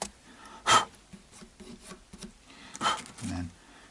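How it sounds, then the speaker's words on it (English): Sandpaper rubbed over the body of a Tokai Strat guitar in short, soft, scratchy strokes, with a couple of louder rasping passes in between. "final smoothing, just going to go over it with this sandpaper"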